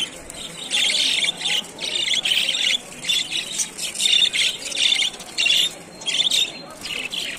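Partridges calling from cages at a busy bird market, with repeated harsh squawking calls in bursts that overlap steadily and sit close and fairly loud above a low market murmur.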